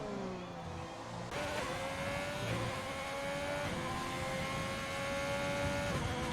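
A Formula-style race car engine in a racing video game screams through a fast lap around Mexico, holding a high, steady whine that drops and climbs again through gear shifts, loud and continuous.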